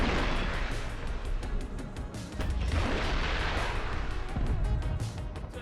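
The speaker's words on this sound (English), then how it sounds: "these are fast missiles" Fast missiles fire and explode in War Thunder, a dense barrage of loud overlapping blasts and roaring bursts that continues steadily throughout.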